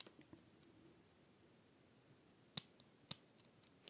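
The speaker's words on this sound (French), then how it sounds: "on va couper le fil" Scissors cutting crochet yarn, a few faint, sharp close snips spaced through an otherwise quiet room.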